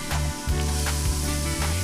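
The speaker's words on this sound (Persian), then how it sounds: "حریره سیر رو اضافه میکنم و شروع میکنم به سرخ کردن." Garlic fries in melted butter in a pan with a steady, close sizzle and hiss. The sound holds throughout with a couple of brief dips.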